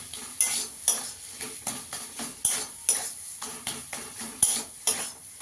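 A metal spatula stirs potato and cauliflower curry in a pan, giving a run of sharp, evenly spaced scrapes and clinks against the metal, with a faint sizzle beneath and no voices.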